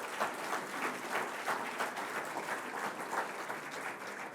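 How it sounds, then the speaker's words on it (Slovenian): An indoor audience at an awards ceremony for young Slovenian computing competitors claps steadily. The applause is dense and even, with no break for the whole stretch. "Pozdravimo ga z aplavzom."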